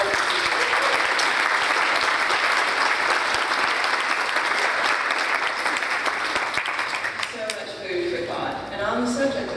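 Sustained, dense applause from a large audience at a youth mental health symposium, loud and steady for most of the stretch before thinning into scattered clapping and murmuring voices near the end.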